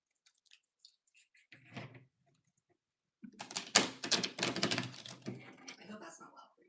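Tarot cards being shuffled and bridged: a few soft clicks, then a dense burst of crisp riffling and ruffling close to the mic that runs for several seconds, with a quiet voice briefly heard earlier.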